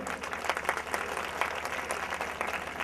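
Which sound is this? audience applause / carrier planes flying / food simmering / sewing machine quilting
audience applause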